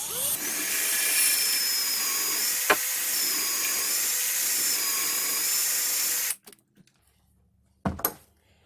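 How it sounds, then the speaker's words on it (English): A power drill bores a hole in metal during assembly of a CNC upgrade kit, giving a steady high whine for several seconds before stopping, then a brief second burst at the end. "the better way to do it is to drill out the hole first so it's close to the correct size"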